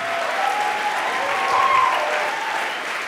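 Sustained crowd applause in a church during a sermon, a steady, fairly loud wash of clapping with a voice faintly heard over it.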